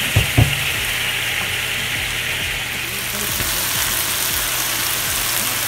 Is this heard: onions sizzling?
yes